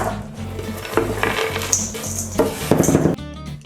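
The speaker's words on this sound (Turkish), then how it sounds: "Şimdi bütün malzemeleri iç içe geçene dek karıştırıyorum." A spoon scrapes and clinks around a bowl, stirring a coarse nut mixture for no-bake granola bars with uneven scraping strokes, close and fairly loud.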